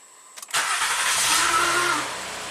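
A Honda Accord with a VCM misfire fault cranks briefly and catches, then settles into a steady idle that runs loud and close, the engine note holding even before easing slightly toward the end.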